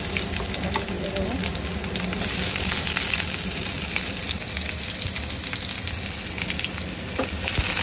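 Onions fry in oil with browned garlic for a chicken dish. A loud, continuous sizzle fills the whole stretch, broken only by faint stirring clinks.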